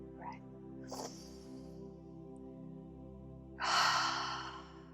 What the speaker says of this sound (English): I invite you first to take a nice deep breath